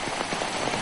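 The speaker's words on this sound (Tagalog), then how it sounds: "Patuloy pa rin nakararanas ng kalat-kalat na pag-ulan sa Bohol." Scattered rain falls in Bohol during stormy weather, a dense, steady patter of drops hitting surfaces close by, with no voices.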